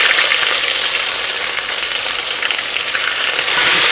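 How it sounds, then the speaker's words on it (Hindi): Ginger, garlic and green chili paste frying with spices in a pan for a street-style veg soya biryani: steady, close, bright sizzling hiss throughout, with no talk. "मसाले हमारे अच्छी तरह से भून रहे हैं तो साथ में डाल देते हैं अदरक लहसुन हरी मिर्च का पेस्ट।"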